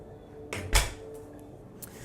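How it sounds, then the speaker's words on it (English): A smooth, fast interior door aboard a 52-metre Amels superyacht swings and shuts with one firm soft thud, followed by a faint later tap, in a quiet room. "These doors, super smooth, super quick as well."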